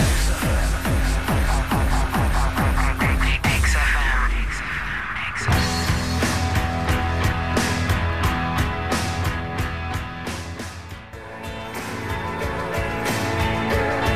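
A full-band rock track plays on the radio at steady volume, with driving drums and dense guitars throughout and no talking over it.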